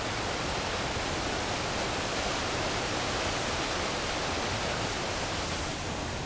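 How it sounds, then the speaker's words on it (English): A waterfall on the Upper Gold River roars in a dense, steady hiss of falling water, constant and broadband with no voices over it. "I think I can include both this waterfall and that waterfall right there"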